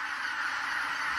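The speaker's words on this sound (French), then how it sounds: "Ça fait s'envoler toutes les oies." A flock of geese in the Korean DMZ takes flight, a dense, continuous mass of honking calls heard at a steady distance.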